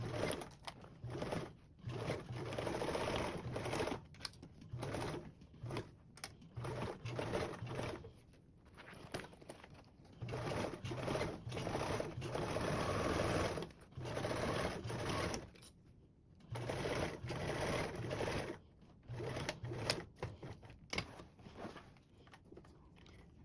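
Sewing machine stitching the base and back panel seam of a convertible duffle bag, running in long steady bursts with brief pauses between runs, close and fairly loud, no talking.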